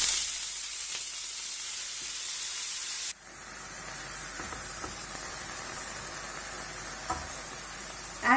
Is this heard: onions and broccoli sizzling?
yes